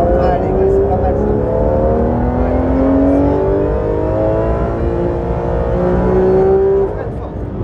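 Porsche 911 GT3 RS on a race circuit, its engine loud and close with a steady high-revving drone and rising pitch sweeps as it accelerates through gears, continuous for the whole stretch.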